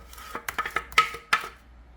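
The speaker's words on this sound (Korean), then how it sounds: "양파를 조금 썰고, 대파도 좀 썰고" A knife chops onion and green onion for sweet potato stem kimchi, a handful of close, sharp, irregular chops against a board in a quiet kitchen.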